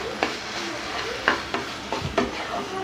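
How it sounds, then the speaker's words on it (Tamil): Carrot halwa stirred in a pan, a few distinct scraping strokes of the spoon against the metal over a soft continuous sizzle, close and fairly quiet. "அதனால் கொஞ்சம் கிளறி விட்டுக்கிட்டே இருங்க"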